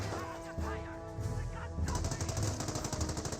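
A .30 cal machine gun fires in the Company of Heroes game as a rapid, steady rattle of bursts under a layered battle mix, with an earlier tonal, honking sound fading out as the gunfire grows.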